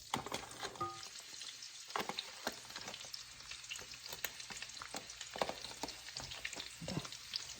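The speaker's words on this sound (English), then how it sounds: "So let me just try to cook the onion. Okay, you hear the sizzling sound" Onion sizzling in a stir-fry pan over high heat, a faint, steady crackle and hiss with frequent small pops and no talking.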